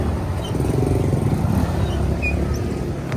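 A Honda XRM motorcycle engine idling and running steadily nearby, a constant low putter with no voices.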